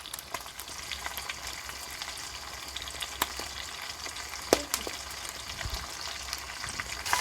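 Komle fish shallow frying in oil in a pan gives a steady, close sizzle with scattered crackles and occasional pops of spatter. No talking is heard.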